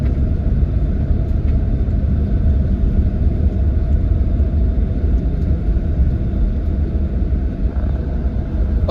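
Inside a Rimba Raya premium executive bus departing Pecangan terminal near Jepara on a night run toward Jakarta: a constant loud low engine and road rumble fills the cabin without pause, with no talk.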